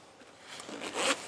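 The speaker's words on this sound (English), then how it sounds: "PFD, very simple on the inside, just like all the others, a simple clip and zipper here" A zipper on a kayak fishing PFD is drawn along in one soft, close pull that rises to a brief louder rasp near the end, heard alone.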